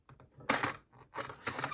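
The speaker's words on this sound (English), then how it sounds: "Actually, I'm also using this paper cutter wrong." A handheld paper cutter slices through paper in a couple of short, close scraping strokes with small clicks between them, quiet and with no talking.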